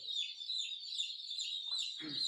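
Broiler chickens in a battery-cage poultry house give a continuous, dense high chirping chorus, with a brief lower rustle near the end.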